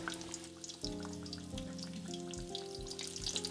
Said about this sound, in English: I heat the pork for 3 minutes over low heat.